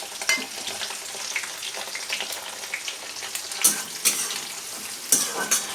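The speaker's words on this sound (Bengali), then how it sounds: "ভালো করে পেঁয়াজটাকে ভেজে নেব" Chopped onions frying in oil for a jackfruit-seed dal, a close, steady sizzle broken by the scrape and clatter of a spoon stirring in the pan, with a few sharper utensil knocks.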